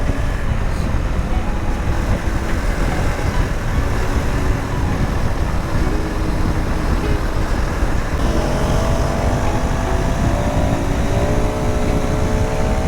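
A Bajaj Dominar motorcycle riding along an open road with small curves, its engine and wind roar steady and loud from start to finish.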